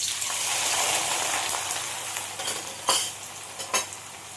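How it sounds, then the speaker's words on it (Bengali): Sliced onions hit hot oil and fry with a steady hissing sizzle, followed by a few sharp scrapes and clinks of a spoon stirring in the pan. "তেল গরম হয়ে গেছে, এবার আমি পেঁয়াজটা দিয়ে দিচ্ছি।"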